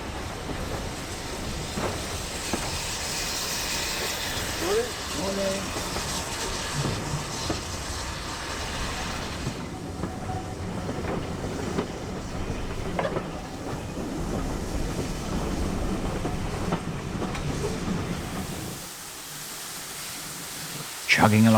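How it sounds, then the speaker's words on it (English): A heritage steam train on the single-track Worth Valley Railway in West Yorkshire rumbles steadily along the track with rhythmic clatter and broad noise, continuous for a long stretch before briefly quieting near the end. "Chugging along the track, we pass the only request stop on the line"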